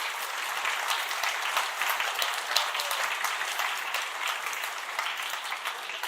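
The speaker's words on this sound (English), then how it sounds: "And once again, a big applause," At a tech presentation, the audience claps for two contestants in a steady, dense stream of many hands that carries on evenly for several seconds, moderately loud and with no talk on top.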